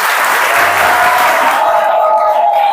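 Audience at a church youth convention clapping loudly, a dense continuous burst of applause close by that carries through the whole moment with a few faint voices mixed in.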